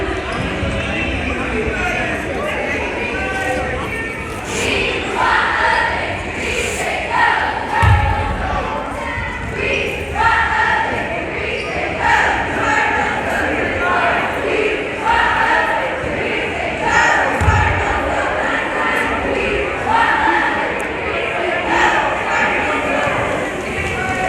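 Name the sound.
cheerleading team performance with chants at basketball game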